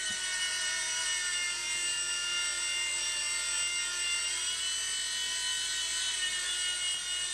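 A Blade mSR micro RC helicopter hovers nearby with a steady, high-pitched electric whine from its small rotor and motor, holding an even pitch and level throughout without any other sounds.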